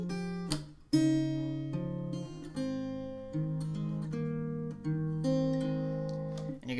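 Acoustic guitar plays the intro of a song, clear strummed and picked chords changing every second or so, close and alone.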